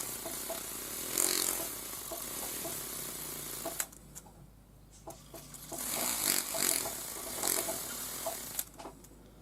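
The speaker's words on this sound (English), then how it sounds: "I use the split mandrel on my pan piece" A split mandrel sands a hammered oval wire bangle, giving a close, continuous abrasive whir that drops away for about two seconds, then swells again and keeps going.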